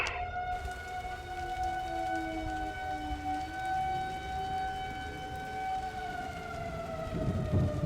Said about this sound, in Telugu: అదేంటి సడన్గా సైరన్ చేశాడు?